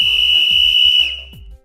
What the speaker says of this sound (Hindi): बराबर ये सीटी की ही आवाज है।